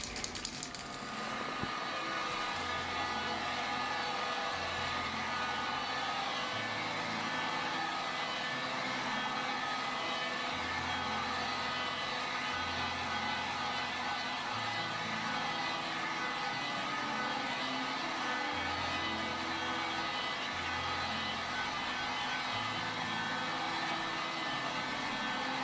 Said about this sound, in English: There's no amount of heat that can come out of this heat gun